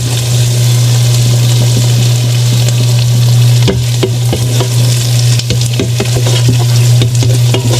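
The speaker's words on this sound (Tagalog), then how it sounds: "So, haluin lang po natin yung ating hotdog." Hotdogs fry and get stirred in a pan, a steady loud sizzle with scraping and clattering utensil strokes from about the midpoint onward, close by and with no talking.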